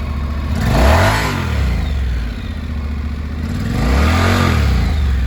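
Used 2017 Honda NC700X motorcycle with DCT automatic transmission revving twice, its engine rising and falling in two loud, close throttle blips with a steady idle between, no talking.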